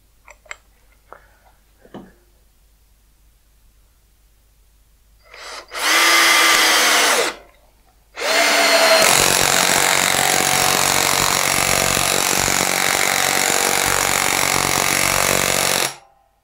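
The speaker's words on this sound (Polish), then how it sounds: "Wracamy do wkręcania, sprzęgło na 16, wkręt 6 na 320." Makita HP457DWE cordless drill-driver, set to clutch 16, driving a size 6 screw. A few clicks and light handling come first, then a loud close whir for about two seconds. After a short pause comes a long, steady run under load lasting about eight seconds.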